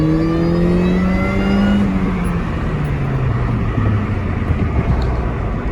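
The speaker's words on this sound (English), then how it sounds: "so we can hear the Supercharger in action" Supercharger whine from a Mini Cooper R53 engine as it revs: a loud, high-pitched whine that rises and then glides steadily downward with the revs, over a rough engine roar.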